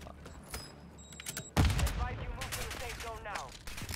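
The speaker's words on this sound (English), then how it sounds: "Dude, you're getting shot at from your right, bro." Gunfire in a first-person shooter video game: sparse, muffled shots at first, then a sharp loud blast followed by rapid repeated fire, with voices talking over it.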